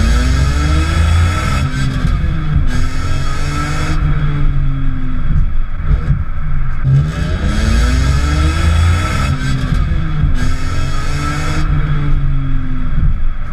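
A sports car engine revs hard while driving, climbing toward redline in repeated surging sweeps with gear changes, loud and close throughout with no talking.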